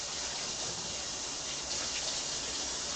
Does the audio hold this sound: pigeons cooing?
no